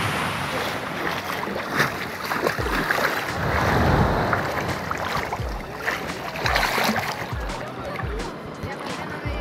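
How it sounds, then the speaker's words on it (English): Ocean waves at high tide breaking on a beach at Puerto Escondido, Oaxaca, Mexico, a steady broadband wash with repeated surges, mixed with wind noise on the microphone and people talking nearby. "the waves are bad now because it's high tide."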